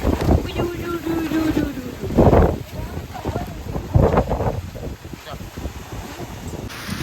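Steady rain with gusting wind during a storm buffeting the microphone, a continuous rushing wash with occasional louder gusts, and faint voices in the background.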